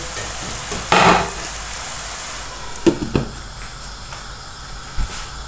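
Spinach and chopped boiled potatoes frying in a pan give a steady, close sizzle and hiss, with a few louder stirring scrapes and knocks scattered through.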